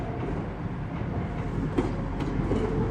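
A Class 175 passenger train, unit 175006 on a Transport for Wales service from Cardiff Central to Holyhead, rumbles through Shrewsbury station with a broad, steady roar and faint rhythmic wheel clicks, loud and near throughout.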